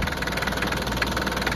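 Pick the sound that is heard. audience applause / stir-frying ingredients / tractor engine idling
tractor engine idling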